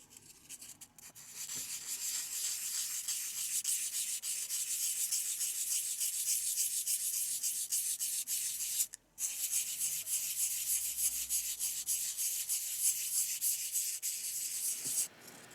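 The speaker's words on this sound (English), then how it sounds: "Try a bit of light sanding on the belly first." Light sanding of carved wood with fine 600 to 1200 grit wet and dry sandpaper, a steady close scratchy rubbing with one short pause near the end.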